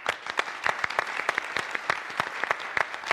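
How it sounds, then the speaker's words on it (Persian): A studio audience at the Iranian TV talk show Khandevaneh claps in sustained, lively applause. The dense clapping fills the whole stretch with sharp individual claps standing out. "هی تشویقشون میکنیم، دست میزنیم براشون"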